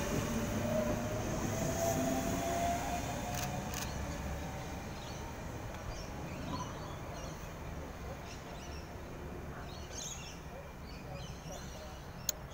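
A Sydney train rides along, heard from the space between carriages: a continuous rumbling clatter of wheels on track, fairly steady and moderately close, with faint squeals and knocks over it.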